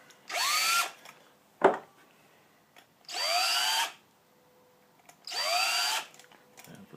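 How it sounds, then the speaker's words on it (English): A power drill whirs in three short bursts, each a couple of seconds long, rising in pitch, with a sharp knock between the first two. "if you let go of the trigger of the drill in the right place"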